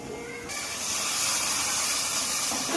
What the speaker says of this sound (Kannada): ಸೊ ಇವಾಗ ಒಂದು ಸ್ವಲ್ಪ ಮಿಲ್ಕ್ ಹಾಕೋಣ